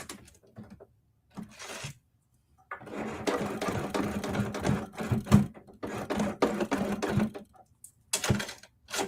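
A home sewing machine with a buttonhole presser foot stitches in rapid mechanical bursts. Several runs of whirring needle clatter are broken by short pauses, and the sound is close and moderately loud.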